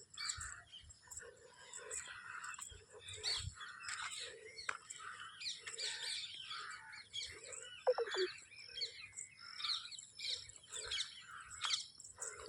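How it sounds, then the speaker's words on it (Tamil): Sparrows chirp and twitter continuously in a lively outdoor chorus, with quiet background noise and a few sharper calls standing out. "குருவி கத்துற சத்தெல்லாம் கேட்குதுங்களா?"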